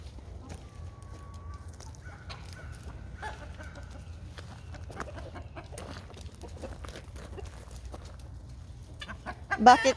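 Free-range chickens cluck softly now and then amid a steady low hum of outdoor ambience, with a louder rustle near the end.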